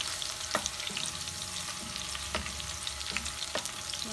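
Pork liver and pork meat fry in a pan with a steady, close sizzle, punctuated every second or so by sharp clacks of a utensil stirring.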